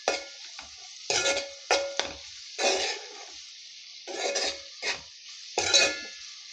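Broad bean pieces are stirred with chili powder in a pan, a series of close, separate scraping and rustling strokes with brief pauses between them, each burst loud against a near-silent background.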